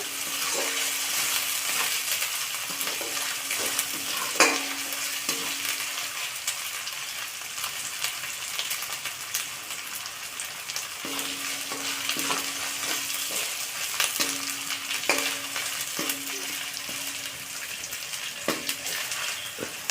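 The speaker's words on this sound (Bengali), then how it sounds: "আদা রসুনটা ভালো করে ভেজে নেব, না হলে কাঁচা গন্ধটা থেকে যাবে।" Ginger and garlic frying in a pan give a steady, broad sizzle throughout, with light intermittent spatula scrapes and taps on the pan and a few sharper clicks.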